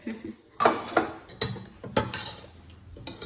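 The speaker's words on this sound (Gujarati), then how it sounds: "બેન ઘસે છે વાસણ." A woman scrubs utensils, and metal dishes clink and clatter in irregular bursts, several sharp knocks spaced about half a second apart with scraping between them, close and clear with no talk.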